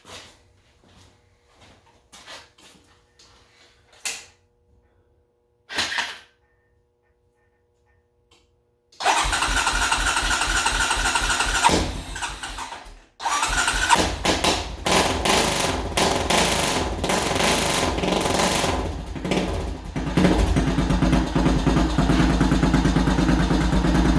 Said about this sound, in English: put the jump box on it and we'll do the cold start.